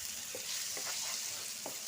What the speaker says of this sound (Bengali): এটা আরো কিছুক্ষণ আমি 5 থেকে 7 মিনিট কষিয়ে নেব।